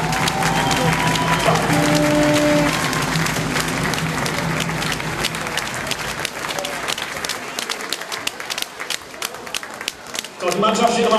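A youth handball team, an E-Jugend side, is applauded at an award ceremony in a sports hall: loud, sustained clapping from a crowd that thins out toward the end, with a voice over a loudspeaker.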